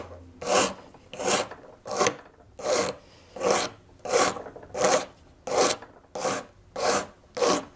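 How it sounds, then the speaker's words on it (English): A hand file rasps along a wooden spindle in eleven steady, evenly spaced strokes, each a crisp close scraping pass separated by brief pauses. "Let me try this file. It might be a little bit easier to manage."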